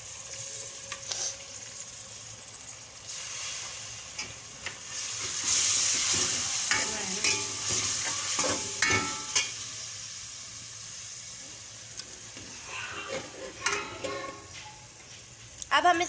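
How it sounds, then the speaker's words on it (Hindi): Onions, fried light brown for keema, crackle and sizzle as ginger-garlic paste is added; a stirring spoon clatters intermittently over the steady close-up frying, which flares louder midway. "अब हम इसमें ऐड कर रहे हैं 2 टेबल लहसुन अदरक के पेस्ट के।"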